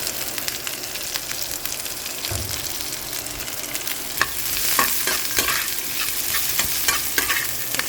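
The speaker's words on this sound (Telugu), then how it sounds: "క్యారెట్ కూడానండి అలాగే కరివేపాకు మిరపకాయలు పచ్చిమిరపకాయ ముక్కలు వేసి వేయించుకోవాలి బాగాను" Carrot, garlic, curry leaves and green chili pieces frying in a pan, a steady close sizzle with frequent scraping and clinking stirs that grows slightly louder midway, no voices.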